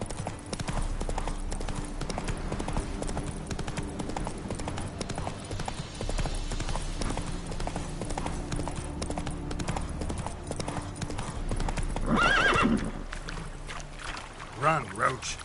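Roach, the horse, galloping in a race in the video game The Witcher III, steady rhythmic hoofbeats running throughout under game sound and music, swelling louder near the end while someone talks intermittently.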